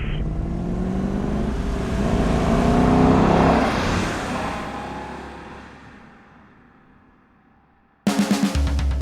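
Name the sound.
car driving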